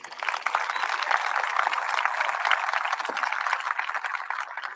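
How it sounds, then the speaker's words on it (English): Applause from the audience at a high school graduation ceremony, brisk steady clapping from many hands that stays level for several seconds, moderately close and with no talk over it. "how about one more round of applause for Mr."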